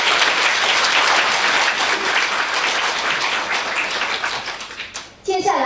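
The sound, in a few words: audience applause thanking Khenpo Rinpoche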